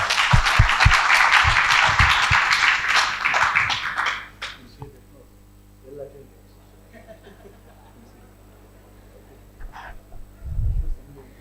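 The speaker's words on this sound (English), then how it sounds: "Can you please give a round of applause to our panellists?" Audience applause for panellists at a space collaboration conference session, a dense burst of many hands clapping for about four seconds that then stops, leaving quiet room sounds and a brief low thump.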